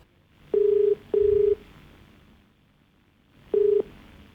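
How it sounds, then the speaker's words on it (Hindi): Telephone tones sound while a caller is dialed on a farming call-in TV show: two steady beeps in quick succession, a pause, then a third beep, clear and loud with no talking. "अब कॉल लगाते हैं हमारे अगले कॉलर को"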